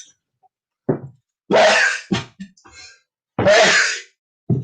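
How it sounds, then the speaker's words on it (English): An allergy sneeze: a few sharp bursts of breath with gasps in between, then a quick catch of breath and another burst. "I'm going to sneeze."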